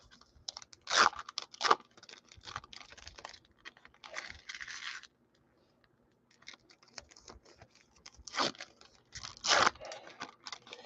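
Cardboard safety scissors cut open a 2023 Contenders Optic hobby card pack, giving sharp close snips and tearing crunches in scattered bursts, separated by quiet gaps.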